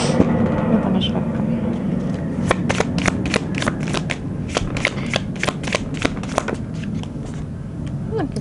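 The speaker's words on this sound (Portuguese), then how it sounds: "Dá uma baralhada de leve." A deck of oracle cards is lightly shuffled by hand at a table, starting as a soft rustle and then turning into a quick run of crisp, close riffling snaps and slaps.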